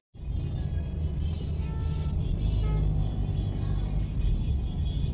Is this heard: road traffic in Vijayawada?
yes